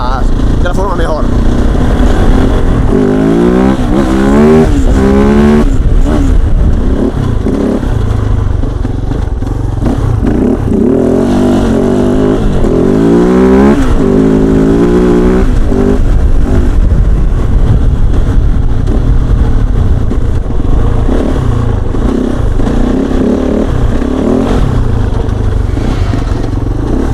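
Kove 450 Rally single-cylinder motorcycle fitted with a stage 2 exhaust and Airbox revving loudly up close, rising in repeated blips and sustained pulls, with someone talking over parts of it.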